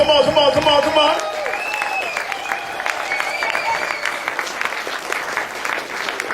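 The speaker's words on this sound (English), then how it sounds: "give him a round of applause" A crowd breaks into sustained applause for a speaker, with dense clapping that carries steadily for several seconds after a loud voice over music at the start.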